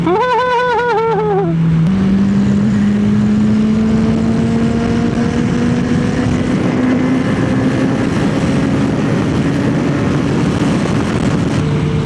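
A Honda CBR650R motorcycle fitted with an aftermarket exhaust and an ECU remap, ridden close by: a brief high engine whine drops at a gear change, then a loud steady drone rises slowly in pitch as it accelerates.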